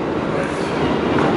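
A Kintetsu electric train pulls into a Japanese station with a loud, steady rumble of wheels on rails, close by and unbroken throughout.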